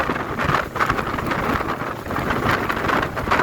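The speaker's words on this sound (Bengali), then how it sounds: "এখানে খুবই খুবই খুবই ঢেউ" Wind buffets the microphone on the Meghna River at Baidyer Bazar ghat during Cyclone Remal, with loud rolling gusts and churning wave noise surging in uneven swells, and no voices.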